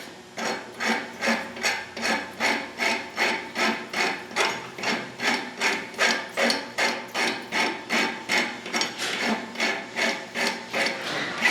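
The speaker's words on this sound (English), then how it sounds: "use my rasp right here to create my profile of my edge" Steel rasp filing the edge of a hot chisel held in a clamp at a blacksmith's forge, a steady series of about twenty-five evenly spaced rasping strokes, close and fairly loud, with no talking.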